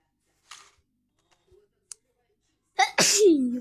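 A single loud sneeze bursts out close by near the end, after a few faint clicks and taps in an otherwise quiet room.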